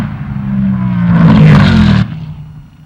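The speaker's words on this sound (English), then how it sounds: "Fullerton's Trojan Horse Mustang is one of the few 74 Mustang 2 bodies in funny car racing today" A 1974 Mustang II funny car on a drag strip roars loud and close, its heavy engine rumble building to a peak before cutting off sharply, then a fainter rumble trails away.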